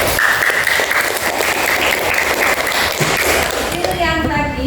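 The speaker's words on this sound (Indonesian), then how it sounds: "Saya kasih aplaus lagi yuk." Classroom applause, a dense burst of clapping from a group of students lasting several seconds, close and loud, fading as a voice begins at the end.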